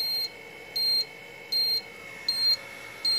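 Low-battery telemetry alarm from a FrSky Taranis radio transmitter, a steady series of five evenly spaced high electronic beeps, each about a quarter second long, repeating at a regular pace over faint background hiss.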